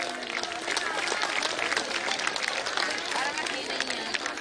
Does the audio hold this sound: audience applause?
yes